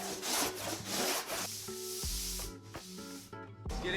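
A large Surform rasp scrubs across a surfboard foam blank in steady back-and-forth strokes, a close, continuous rough scraping with regular rhythmic passes and no talking.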